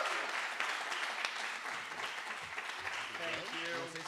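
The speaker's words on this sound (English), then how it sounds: "Give him a round of applause." An awards-ceremony crowd gives a round of applause as a representative is called up, a busy, moderately distant patter of clapping with voices and chatter mixed in underneath.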